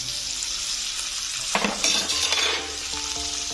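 Okra dropped into a hot pan with cumin and coriander powder sizzles steadily and close, with a burst of louder crackling and spatula scraping partway through.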